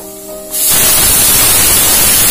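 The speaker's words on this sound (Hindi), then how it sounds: "तो 1 सीटी अभी आ गई है" A pressure cooker lets off a loud, sustained hissing steam whistle while soybean multigrain khichdi cooks on a gas stove, starting abruptly after a quieter moment and continuing close and alone.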